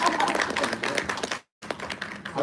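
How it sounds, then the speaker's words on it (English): Brisk round of applause from a small audience at a hair-stylist business event, dense close clapping that breaks off for a brief silent gap, then resumes. "round of applause"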